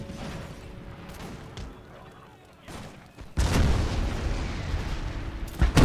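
Cannon fire rumbles through a Prussian army battle in the strategy game Imperial Splendour: a low, muffled stretch, then a loud broadband burst of volleys with crackling after about three seconds and another blast at the end, with a voice talking.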